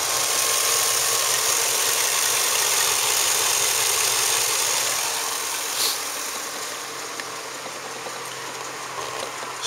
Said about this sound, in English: motor runs good.